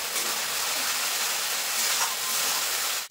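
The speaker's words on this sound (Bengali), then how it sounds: "এবার মশলাটা আমি সুন্দরভাবে কষিয়ে নেবো যতক্ষণ না মশলা থেকে তেল ছাড়ছে" Spice masala for chicken kosha sizzles steadily as it is sautéed in oil, a dense, continuous frying hiss close by with faint stirring, ending abruptly.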